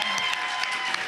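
A live audience gives a round of applause, dense and steady clapping filling the whole brief moment at close range with no voices over it.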